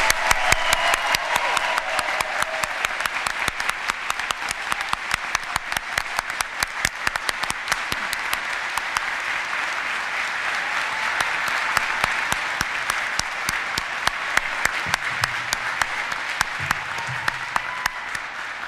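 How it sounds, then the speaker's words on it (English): At a university commencement ceremony, an audience applauds the graduates with dense, sustained clapping that holds at an even level throughout, individual claps standing out sharply from the steady wash. "I would like to hear a wonderful, resounding, thundering applause for all of our graduates with us today"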